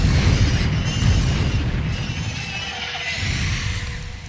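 A fiery Confringo spell explosion in a wizard video game, a loud sustained rumbling boom that fills the whole stretch with dense low roar.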